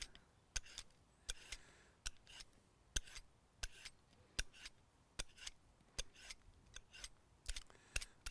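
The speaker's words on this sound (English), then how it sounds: "Let's get all the peel off of it." A peeler scraping the skin off a cucumber, a run of sharp, quiet, rhythmic strokes repeating close up with short pauses between them.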